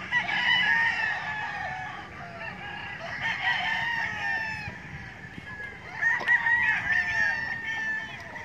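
Gamecocks at a game farm crow repeatedly, overlapping and fairly distant, with clucking from other fowl in the background.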